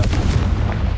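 Confringo blasting spell in Hogwarts Legacy: a dense, close, booming blast with heavy low rumble filling a full second without pause.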